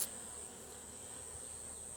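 Honey bees hum softly around a honey-filled hive, a thin steady high-pitched buzz held without a break over quiet low background noise.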